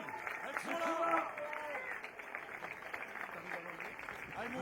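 A crowd applauds the Lyon women's basketball team as it marches in the Mondial Pupilles 2024 team parade, with steady clapping and cheering throughout under a voice speaking over it.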